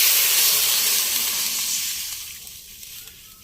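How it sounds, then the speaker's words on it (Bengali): Water hitting a hot kadai, a loud burst of sizzling hiss that gradually fades and quiets over a few seconds, close by with no voices. "দেখো কড়াইয়ের মধ্যে আমি জল দিয়ে দেব।"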